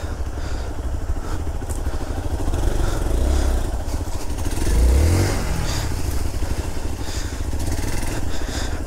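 A motorcycle being towed on an off-road forest route, its engine running steadily and loud throughout with two brief swells as it revs.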